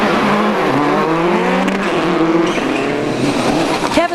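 Rally cars racing around the tarmac of Lurgan Park, engines roaring loudly and continuously with rising and falling revs and a brief tyre squeal near the end.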